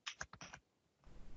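A handful of quick clicks from a clicky computer keyboard come in a short burst, faint and close. A soft rustle follows after a pause.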